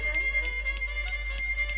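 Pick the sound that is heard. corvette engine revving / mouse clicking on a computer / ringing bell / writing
ringing bell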